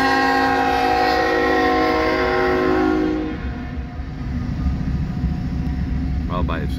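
A freight train on the Transcon line passes close, its loud sustained horn blast sounding over rumbling wagons, then fading to steady rolling rail noise with a brief ringing at the end.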